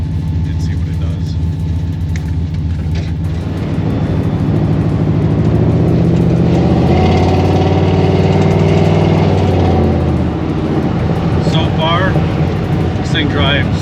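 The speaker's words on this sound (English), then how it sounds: "This is a totally different truck right now, the way it's driving." A 454 big block Chevy square body dually truck fitted with an Edelbrock 1411 carburetor drives along, its low engine rumble steady and close throughout, rising in pitch midway as it accelerates, with talk over it.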